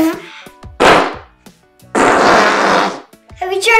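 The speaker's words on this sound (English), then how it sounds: "That's a good fart." Two loud, buzzing fake fart noises from a prank played on kids, one short and one longer and drawn out, set between bits of talk and laughter close to the microphone.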